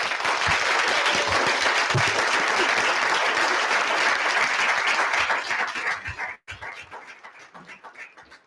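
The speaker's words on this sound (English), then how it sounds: "So if we can give them a round of applause." Audience applause fills a school board meeting for about six seconds, steady and dense, then thins into scattered claps and fades out near the end.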